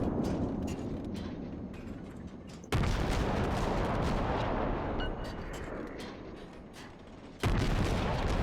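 Heavy gunfire from a Nagato battleship's secondary guns in a naval combat game, a dense rumbling barrage with two sharp, loud booms breaking in, continuous and close without voices.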